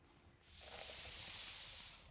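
A magic spray spell from the Magic Supremacy mod for Valheim lets out a single, even hiss. It starts abruptly after a brief quiet moment and holds for over a second before tapering off.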